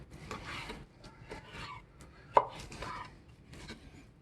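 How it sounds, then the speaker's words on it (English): A Kershaw Camp 5 knife with a D2 steel blade chops through material in a series of irregular strokes, with one sharp, loud strike standing out midway, heard close and with no talking. "All edges of that blade, every part of that blade is cutting."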